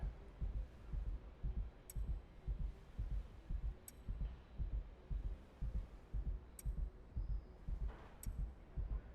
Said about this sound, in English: You just hear like a constant heartbeat from smoking laced weed.